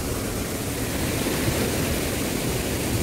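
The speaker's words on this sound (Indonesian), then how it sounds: "Air terjun." Water pours steadily down a small waterfall over a road at Taman Safari Bogor, a dense, unbroken roar that stays close and loud throughout with no other sounds.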